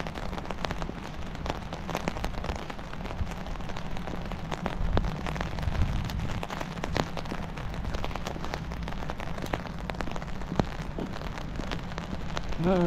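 Rain falls steadily on surfaces outdoors during a walk, a continuous close patter with scattered drips and a few louder taps.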